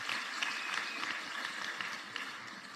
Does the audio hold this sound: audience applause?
yes